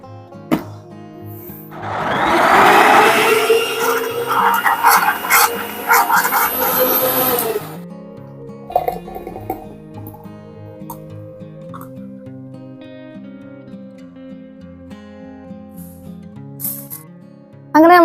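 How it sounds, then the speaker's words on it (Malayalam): A mixie blends dragon fruit, mango and chilled milk into juice, making a loud, steady whirring roar for about five seconds before it cuts off, leaving quieter background noise. "അപ്പൊ ഇനി പാലും കൂടെ ചേർത്ത് മിക്സിയിലൊന്ന് ബ്ലെൻഡ് ചെയ്യാം."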